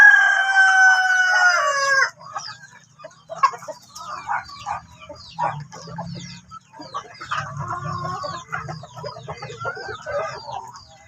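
A rooster crows loudly close by for about two seconds, then chickens cluck and call in a busy, overlapping chatter around a farm feeding area, with low shuffling and scratching underneath.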